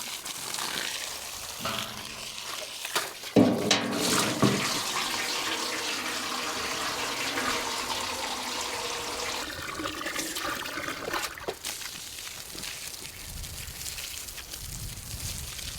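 Water drains steadily out of an open drain plug on a farm, a continuous close gush with a few knocks and splashes partway through, tapering toward the end.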